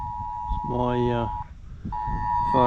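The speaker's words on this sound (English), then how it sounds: "phone going off again" Mobile phone civil defence emergency alert sounding near Rainbow Falls, a loud electronic tone in two bursts with a warbling pulsed section between them, while people talk over it.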